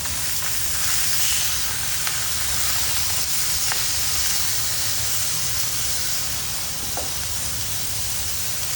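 Steaks sear on a Blackstone flat-top griddle with a constant, dense sizzling hiss that runs steadily throughout, close and even, with a few faint clicks and no talk.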